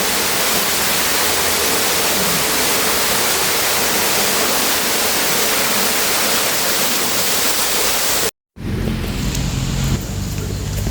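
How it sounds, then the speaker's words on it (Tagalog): Holy water at the Padre Pio shrine flows and splashes in a steady, loud, close rush of broadband water noise, broken by a brief silent gap near the end before the flow resumes. "Holy water."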